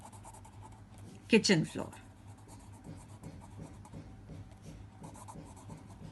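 Chalk or a marker writes on a board during a fifth-grade maths lesson, with faint scratchy strokes heard under a teacher's steady talking.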